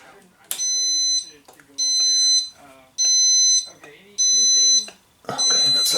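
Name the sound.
motorcycle alarm sounding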